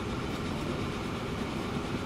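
A train in the video game Transport Fever 2 runs along the track with a steady rolling rumble and clatter, continuous and fairly even in level with no talk.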